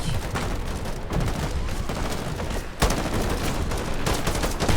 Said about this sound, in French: donc ça tire toujours les roquettes